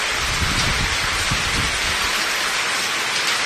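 Heavy rain falls hard in Abohar, a loud continuous roar of drops on surfaces nearby, with deeper rumbling gusts early on before settling into an even downpour.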